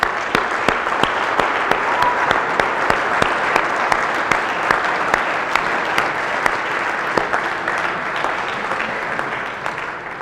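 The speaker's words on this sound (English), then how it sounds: "So a round of applause for all the dads out there." A congregation applauds the dads during a father-son Eucharist, with a continuous, full wash of many hands clapping and a few sharper individual claps standing out. It stays steady for ten seconds with no talk.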